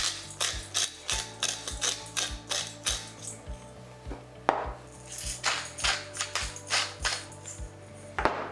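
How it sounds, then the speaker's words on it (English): Dijon salad dressing of vinegar and olive oil whisked briskly in a bowl, a steady run of quick metallic ticks and scrapes repeating for several seconds, close and moderately loud, no talking. "And whisk it together."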